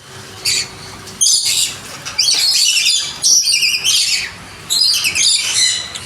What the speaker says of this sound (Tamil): பேர்ட்ஸ் பாருங்க எல்லா இடத்துலையும் சூப்பராக இருக்கு.